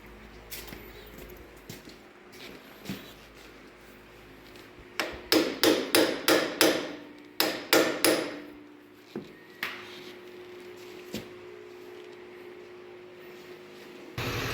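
A hammer strikes metal in two quick bursts of about five ringing blows each, then a few scattered single hits, while working on a stuck crank of an Allis-Chalmers WD tractor, with no talking.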